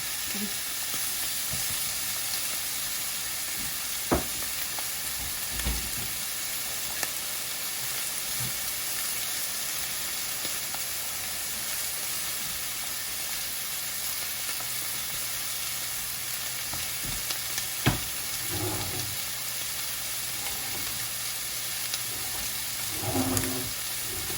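Chicken thigh bones fry with no oil in a dry, very hot frying pan, giving a continuous sizzle that lasts throughout, with a few soft clinks and stirring knocks scattered across it.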